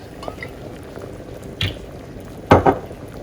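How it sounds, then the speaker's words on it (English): Buckwheat kasha cooks in a pot of water with a teaspoon of olive oil on low heat. Soft bubbling runs quietly throughout, with a couple of louder clunks near the end like a lid or utensil against the pot. "Let it boil, and then we're gonna put cover over it."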